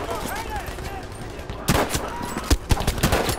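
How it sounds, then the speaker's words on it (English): Sniper rifle fire rings out in a Battlefield video game campaign. After a quieter start, sharp loud gunshots crack in quick irregular succession, with a voice faintly present underneath. "I've just been going off with this sniper rifle."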